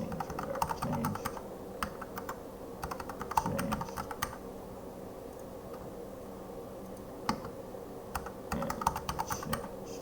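Quiet, steady typing on a computer keyboard while writing code for a Brick Breaker game, with clustered key clicks and short pauses between bursts.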